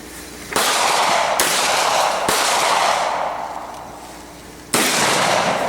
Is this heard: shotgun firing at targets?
yes